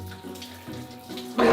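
Tap water runs steadily for bathing with cold water on a chilly winter day, splashing in a continuous close stream that swells into a louder gush near the end; no one speaks.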